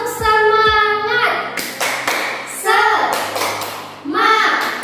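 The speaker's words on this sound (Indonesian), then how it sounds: "kita tepuk semangat dulu ya" Children in a classroom clap out a rhythmic cheer led by a teacher, with sharp claps and thumps alternating with sung or chanted voices in a bouncy pattern, loud and close.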